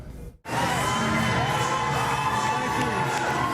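A crowd of about 500 at a Bill Clinton campaign rally for Hillary at CCRI Warwick, Rhode Island, breaks into loud, sustained cheering and shouting after a brief quiet moment.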